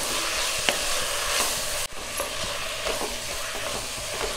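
Schezwan noodles with soy sauce and tomato sauce stirred in a hot pan, giving a steady close sizzle with scraping stir strokes and a brief break partway through.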